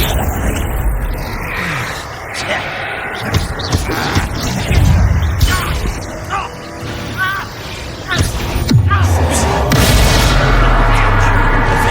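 Confringo blasting spell explosions in Hogwarts Legacy, heard as loud booms and crashes that stay dense and continuous through a combat scene, mixed with game effects and voices.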